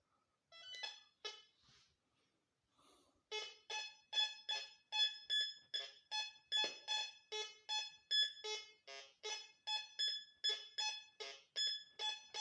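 A metal detector in all-metal mode emits a steady run of rapid, evenly spaced electronic beeping tones, loud and close, after a brief quieter start.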